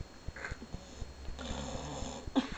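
A person imitates snoring with a run of rough, rattling snore noises, repeated and fairly close, with some breathy snorting between them.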